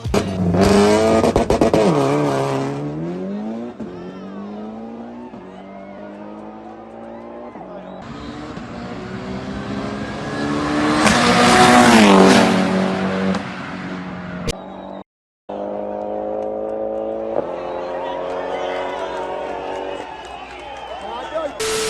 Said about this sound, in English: we have an SF90 versus an Evo 9